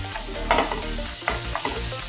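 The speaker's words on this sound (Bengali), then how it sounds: "তেল গরম হয়ে গিয়েছে তেলের মধ্যে এখন দেবো রসুন কোচানো" Chopped garlic frying in hot oil for a Paneer 65 dish, a steady close sizzle with a few sharper stirring scrapes, no voices.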